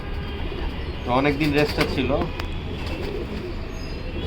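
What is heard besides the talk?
Kitel racing pigeon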